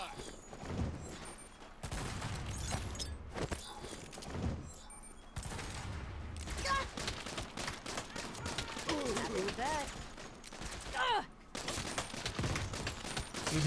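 Automatic gunfire in Saints Row during a prison break, bursts of shots and thuds mixed with game voices and effects, moderately loud and dense throughout, with people talking over the shooting.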